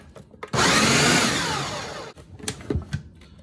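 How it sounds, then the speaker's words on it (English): A blender chopping a cup of ackawi baladi cheese for homemade knafeh, loud whirring for about a second and a half before it stops, then clattering handling sounds. "So this is another cup of ackawi baladi cheese. I'm gonna put that in the blender here."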